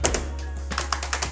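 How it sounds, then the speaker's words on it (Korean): Rapid keyboard and mouse clicks tap away close by in an uneven rhythm, with a low steady hum underneath. "키보드 마우스 소리, 페트병 부딪히는 소리"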